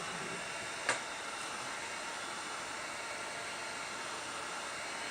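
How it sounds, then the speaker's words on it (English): A heat gun blows steadily while warming plastic, a constant hissing whoosh of hot air at moderate level with one brief click or knock early on and no talking. "This is a perfect job for the winter time because you get to use the heat gun."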